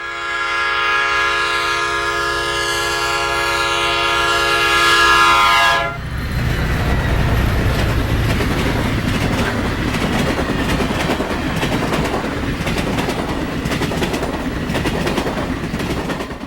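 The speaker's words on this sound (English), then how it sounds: "And the Southwest Chief flies by a short time later." Amtrak's Southwest Chief passenger train blasts a long, loud horn as it approaches, then thunders past at speed with sustained rumble and rhythmic wheel clatter close by.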